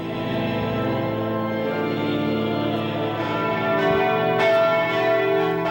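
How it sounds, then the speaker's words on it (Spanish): Five large church bells cast in France, rung electrically, ring together in a dense, sustained peal, overlapping tones swelling and ringing on continuously with no pause. "El campanario, constituido por 5 grandes campanas fundidas en Francia, funciona con sistema eléctrico."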